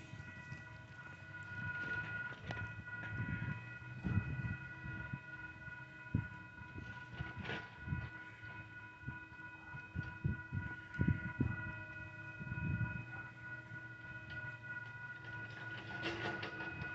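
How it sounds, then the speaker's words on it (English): A southbound Union Pacific grain train led by several locomotives rumbles past a level crossing with clanking wheels and thuds, while steady tonal ringing like crossing bells or a horn persists throughout at moderate distance. "Southbound UP train."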